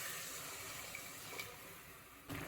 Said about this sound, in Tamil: ஒரு உலக்கு தேங்காய் பால் ஊற்றிக்கலாம்.